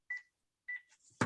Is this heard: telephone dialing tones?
yes